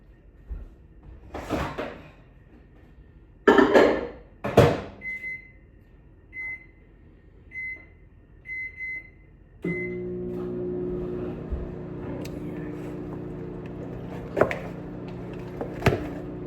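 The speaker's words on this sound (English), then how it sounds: "I'm gonna put this in the microwave to kind of like let it watery." A kitchen microwave heats a bowl of curry: a few soft knocks and clunks from the door and handling, a series of short beeps, then a steady low hum of the running oven with faint clicks.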